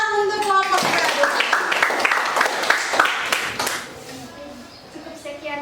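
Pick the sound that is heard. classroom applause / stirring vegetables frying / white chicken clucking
classroom applause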